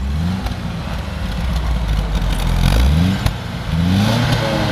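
A 1979 MGB roadster engine with a new stainless resonator revs steadily nearby, a rough low rumble rising and falling with some mechanical clatter, no voices.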